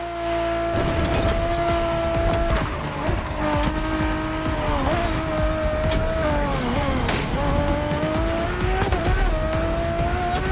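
A Ferrari in The Crew Motorfest revs hard and loud, its engine note rising and falling through gear changes with tire squeal for about ten seconds, heard alone with no talking.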